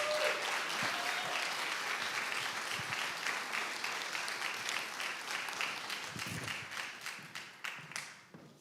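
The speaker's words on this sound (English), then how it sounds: "So everyone give them a round of applause." Audience applause at a community summit as school principals come up to the stage, a dense, fairly distant patter of clapping that gradually thins into scattered individual claps and fades out.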